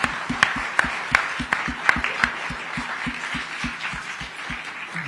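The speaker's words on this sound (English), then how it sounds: "Please, can you clap for them?" An audience at a science policy round table on the NIH claps in a brisk, regular rhythm that starts strong and gradually fades over a few seconds, heard from a moderate distance in a large room.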